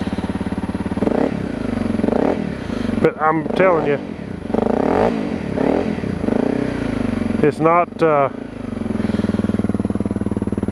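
Honda CRF250L dirt bike idling with an FMF Powercore 4 quiet insert, a steady low engine putter running throughout, with a person talking over it.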